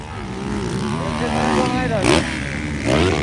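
A racing motorcycle engine revs loudly at a race event, its pitch rising and falling as it accelerates, with an excited commentator talking over the roar.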